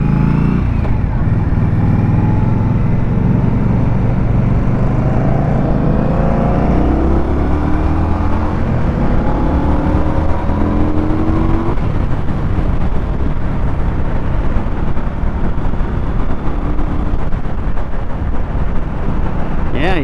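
An Indian Scout Bobber motorcycle pulls hard to highway speed, its engine roaring close and loud through rising gear sweeps under heavy, constant wind rush.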